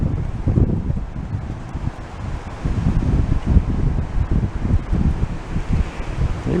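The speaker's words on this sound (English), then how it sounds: "Nice of the wind to be picking up for us." Wind picks up outdoors at a junkyard, buffeting the microphone in loud, rumbling gusts that surge and ebb continuously, with no voices.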